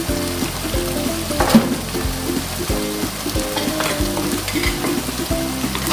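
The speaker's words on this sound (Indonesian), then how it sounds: "So bahan tumis ni tadi ialah udang kering, bawang merah, bawang putih, cili geli, cili kering, halia, kunyit, itulah saja." Dried shrimp, shallots, garlic, chili, ginger, turmeric and lemongrass sautéing in a pan make a steady, close sizzle and crackle of frying that runs throughout, with some stirring and no talk.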